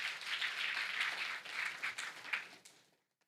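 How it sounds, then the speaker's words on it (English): An audience claps for a 16-year-old entrepreneur at a national budget forum, a soft, fairly distant ripple of applause that swells briefly and fades out after about three seconds. "he deserves a round of applause for 16-year-old entrepreneur"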